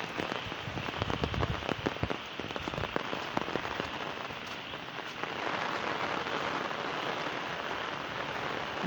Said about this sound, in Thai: ผมว่าน่าจะเป็นพายุลูกเห็บนะ